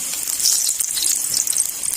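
Pakora batter dropped by hand into hot oil fizzes and sizzles steadily and close up, a bright continuous crackle with no talking over it.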